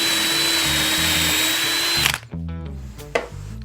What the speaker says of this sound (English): And then we'll drill these with our hand drill.